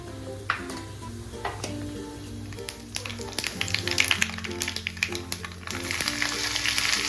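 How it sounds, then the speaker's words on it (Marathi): Mustard seeds crackling and popping in hot oil for a dhokla tadka, dense irregular pops over a steady sizzle with a few clinks of a utensil, close and fairly loud. "तडका तयार करायसाठी मोहरी टाकते"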